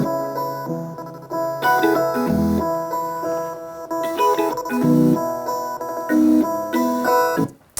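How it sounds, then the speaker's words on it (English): Chopped piano and organ play together in an electronic track, with clear sustained harmonic chords cut into rhythmic stabs at a steady pulse, loud and alone without talk. "It's a piano, a chopped piano, and a organ. They sound like this together."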